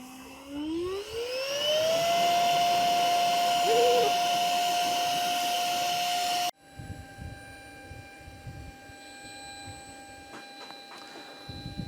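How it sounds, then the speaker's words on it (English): An Outdoor Master Shark 3 electric pump inflates a board. Its motor whine rises in pitch as it spins up, then holds a loud, steady drone. A quieter, lower hum and a few faint clicks follow after an abrupt cut. "The pump starts in fast inflate mode, which is quick and quiet"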